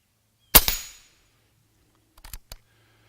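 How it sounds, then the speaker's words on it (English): A Condor SS .25 caliber air rifle, aired to 2,900 PSI, fires once at a small 3-inch steel target about 30 yards away, giving a sharp loud crack, followed by a few quieter mechanical clicks. "I'm going to shoot this little 3-inch steel target real quick just to check my sights and make sure I'm on."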